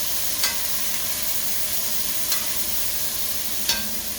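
Chicken sausage sizzling in a pan, a steady hissing fry with a few brief clicks and scrapes, close and continuous with no talk.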